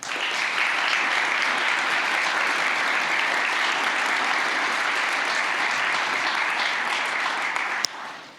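Sustained audience applause at a U.S. Green Building Council West Michigan award ceremony, a dense, steady wash of many hands clapping that holds evenly for about eight seconds before fading.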